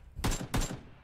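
Two quick, sharp bursts of AK rifle fire in the battle-royale game PUBG, moderately faint, with a brief gap between them and no talk.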